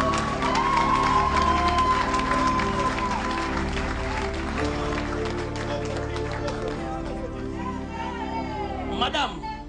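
A church congregation at a prophetic service cheers and claps for the Spirit of God, loud steady applause and shouting voices filling the room, with music playing underneath and a voice calling out near the end.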